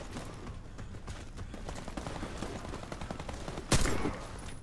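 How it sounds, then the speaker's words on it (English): Gunfire in the online shooter Warface, a dense stream of rapid shots with one louder, sharper blast near the end, all fairly close and continuous. "It's a good shotgun."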